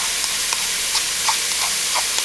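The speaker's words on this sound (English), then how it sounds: "it's time to add your chopped onions and garlic" Chopped onions and garlic sizzle in a pan where meat is browning for Zuppa Toscana soup, a steady loud hiss of frying with soft stirring scrapes throughout.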